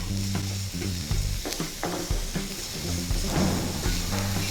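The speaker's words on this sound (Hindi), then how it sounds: "इसे हल्का ब्राउन होने तक हम फ्राई करते रहेंगे।" Steady sizzling of onions frying in a hot pan until light brown, with occasional stirring scrapes and clinks over the continuous crackle; no voices.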